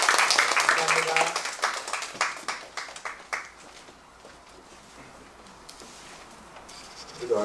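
A short burst of clapping at a church worship service opening a hospice volunteer training, fading after a few seconds into quiet room tone before a voice returns near the end.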